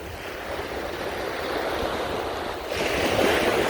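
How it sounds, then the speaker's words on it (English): Ocean waves wash onto a shore in a steady, loud, broad rush with wind noise, swelling near the end, with no voices. "I hope the sound of the waves in my voice is able to give you some sense of"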